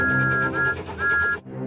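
A steam locomotive whistle sounds a sustained high note in two long blasts over a busy musical backdrop, then cuts off abruptly.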